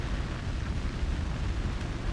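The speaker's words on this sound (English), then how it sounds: "The building's on fire!" A building burns in Like a Dragon Gaiden, a dense, steady roar of fire with constant crackling rumble and no pauses, filling the scene at an even, moderate level.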